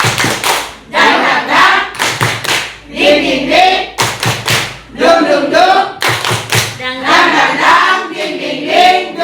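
A group performs the rhythmic 'tepuk semangat' spirit clap at a school workshop, sharp patterned bursts of clapping in repeating phrases with short pauses, fairly loud and close, with voices chanting and calling between the rounds.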